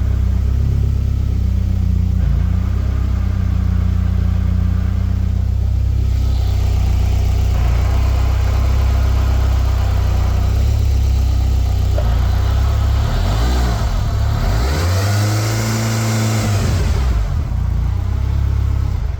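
A steady mechanical whine from a faulty gearbox rides over a car engine's low drone, shifting pitch as the engine revs up and dips, with no voices.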